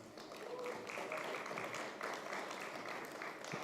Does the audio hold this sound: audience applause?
yes